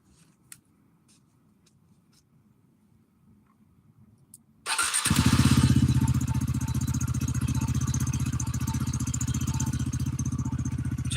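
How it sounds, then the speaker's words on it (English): A KTM motorcycle engine starts after a few seconds of near-quiet with faint clicks, then settles into a loud, steady idle close by. "Just listen to her purr."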